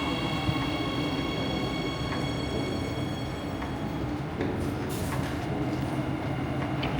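Warsaw metro train running, a steady loud rumble of wheels and motors heard from inside the car, with faint squeals and rattles over the constant roar.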